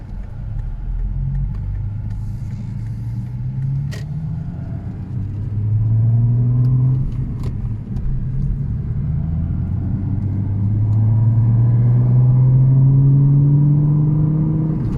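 A 1992 Audi Coupé Quattro V6 engine on the move: a steady, deep rumble that rises and falls in pitch as the car accelerates through gears, close and loud with no talking.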